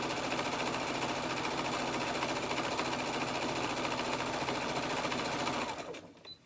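A sewing machine stitches a run of quilt blocks in one steady, loud, continuous whir, then winds down and stops near the end.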